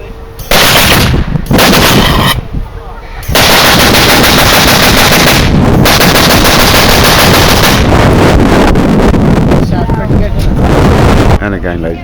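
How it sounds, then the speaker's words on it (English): A Vickers .303 machine gun test-fires at a military reenactment outdoors, loud sustained bursts of automatic fire with short breaks between them, accompanied by wind buffeting and a person talking. "Now Vickers 303 machine gun."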